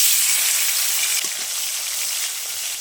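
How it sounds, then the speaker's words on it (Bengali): Koi fish sizzle in hot oil in a kadai, a bright continuous hiss that eases slightly after a moment, close and steady with no speech. "তেল গরম হয়ে গেছে, মাছ দিয়ে দেবো।"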